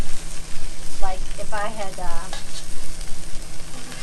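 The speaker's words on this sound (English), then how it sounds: "Especially when you consider frying." Food fries outdoors at an RV campsite, a steady sizzle with stirring scrapes, heard close and loud while someone talks over it briefly.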